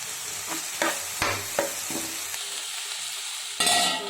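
Diced potatoes tumble into a pan of frying onions, then get stirred with a series of scraping clacks and a soft sizzle, ending in a louder burst of frying.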